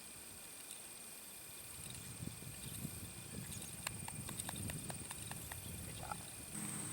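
A horse's hooves clip-clop in an uneven series of sharp knocks near a mounting block, gradually building over several seconds against faint outdoor background.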